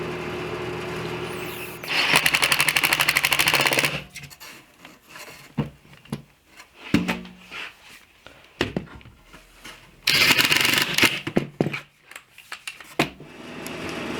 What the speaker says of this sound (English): I'm going to screw these clips in, and that's what holds the chair together.